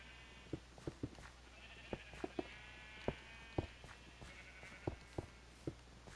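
Sheep bleating intermittently over a steady low hum, with several short calls and scattered soft thuds spread across the stretch, fairly distant and faint.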